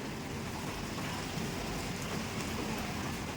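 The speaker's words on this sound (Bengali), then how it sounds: "বৃষ্টি হয়েই যাচ্ছে হয়েই যাচ্ছে বৃষ্টি বৃষ্টি বৃষ্টি" Steady rain falls outside a house during a long downpour, a faint, even hiss with no breaks and no voices.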